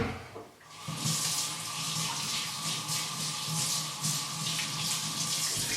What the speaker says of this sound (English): let's just wet my blade again